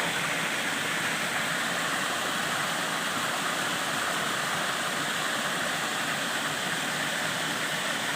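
A three-tier waterfall pours over rocks in a steady, loud, unbroken rush of water heard up close, with no other sounds standing out.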